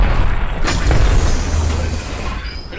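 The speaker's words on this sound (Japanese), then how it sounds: "グレネードが来る。" Grenade explosion in the video game Apex Legends, a single heavy boom hitting abruptly and rolling off into a low, fading rumble over a few seconds, with no talking.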